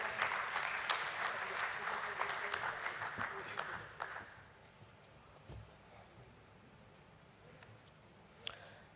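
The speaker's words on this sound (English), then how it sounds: "Let's welcome him on stage with a round of applause." Audience clapping at a stock exchange listing ceremony welcoming a speaker on stage, fairly loud at first and then thinning out after about four seconds into scattered claps and quiet room noise, with one sharp knock near the end.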